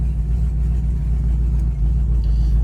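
A 1972 Oldsmobile Cutlass rolling along with its engine running, a loud, steady low rumble and drone close to the microphone with no voices.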